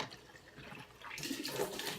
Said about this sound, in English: put them in the sink, and then turn on the water